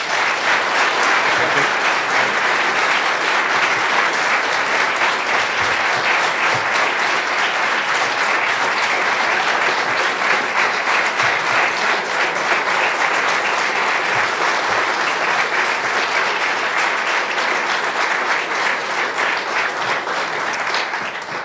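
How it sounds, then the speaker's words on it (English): An audience at the National Press Club gives a round of applause for the candidates at the 2021 Teamsters presidential debate, a loud, steady clapping that carries on for the whole stretch without letting up. "Let's give the two candidates a round of applause."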